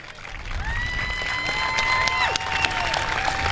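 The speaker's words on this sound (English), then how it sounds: "I want you to give her a round of applause" An audience at a motorsports track gives a round of applause for a woman named Alice, a continuous wash of clapping with a few whistles and cheers on top, fairly close and steady throughout.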